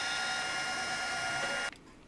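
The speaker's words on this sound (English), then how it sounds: "And tap drilling." Tap drilling a hole in a small Stirling engine part on a machine: a loud, steady drilling whir heard close up, which stops abruptly near the end and leaves quiet room tone.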